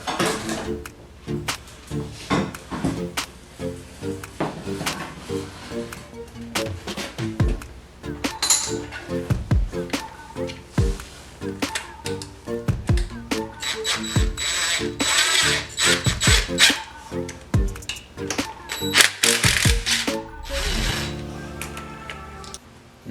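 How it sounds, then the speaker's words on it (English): Studs are removed from a Ford 4.6L 3V engine during disassembly. A hand ratchet clicks in rapid, repeated bursts, with metallic clinks and clunks of parts being handled, close up and without talking. "Set it to the side and remove the rest of the studs."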